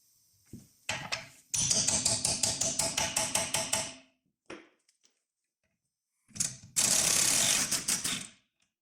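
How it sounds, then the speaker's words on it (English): An impact gun hammers loose a tight bolt securing the rear wheel bearing on a VW Tiguan: two loud, close, rapid rattling bursts, the first about three seconds long and the second about two, with brief clicks between. "In my case, I'm going to use my impact gun"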